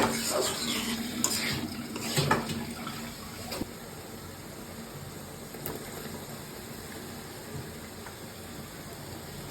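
Potatoes stirred into dried kachki fish cooking in a pan, a soft low sizzle with scraping and clinks of the spatula against the pan, louder in the first few seconds and then settling into a quiet steady frying hiss.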